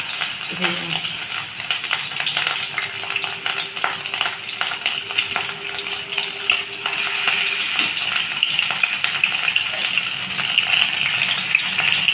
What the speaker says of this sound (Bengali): এই মাছ লাল করে ভাজা হয়ে গেছে